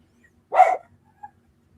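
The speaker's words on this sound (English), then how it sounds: "The dog concurs." A dog gives a single short, sharp bark close by in a quiet room, followed by a faint brief yip.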